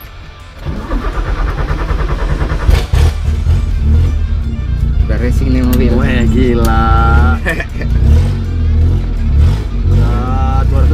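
Racing car engine revving hard during a ride with a passenger belted in, a loud, sustained roar with rising and falling pitch sweeps, under excited talk throughout.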